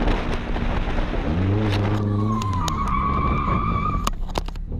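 A car drifts with its clutch kicked, the engine roaring and revving hard while its tires screech in a long, loud, wavering squeal that rises in pitch, ending in sharp bursts.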